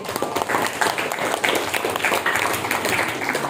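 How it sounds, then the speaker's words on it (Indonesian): Students in an 8th-grade school class applaud together, a steady patter of many hands clapping close by for the full length, with some voices mixed in. "Tepuk tangan untuk kelas 8D."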